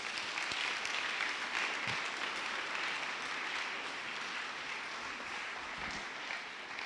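A church congregation applauds and cheers for the Lord in a steady, dense wash of clapping that holds fairly evenly from start to finish, with no clear talk over it.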